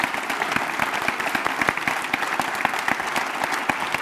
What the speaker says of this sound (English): give these great panelists a big rousing applause